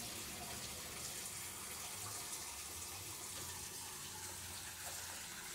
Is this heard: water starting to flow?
yes